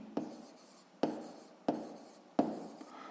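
A pen writes down numbers while a sixth-grade maths exercise is worked through, making four distinct scratchy strokes at steady intervals, each starting sharply and then trailing off, close and quiet.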